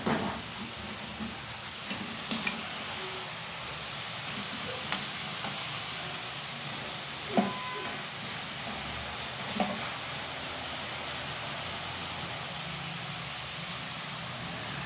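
Potato chips (fries) for a daughter fry in hot oil with a steady, continuous sizzle, close and even throughout, broken now and then by faint clinks.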